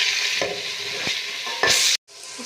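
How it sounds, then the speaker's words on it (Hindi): Garlic ginger paste, green chilies and tomatoes frying with onions in a pan: a steady close sizzle with a few sharp stirring scrapes, rising louder near the end before a sudden brief drop and resumption. "अब हम इसमें ये लहसुन अदरक का पेस्ट, सब्ज़ मिर्चें और टमाटर शामिल करेंगे। इनको अच्छे से भूनेंगे।"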